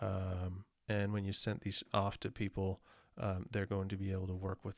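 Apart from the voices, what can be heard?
No everyday noises stand out.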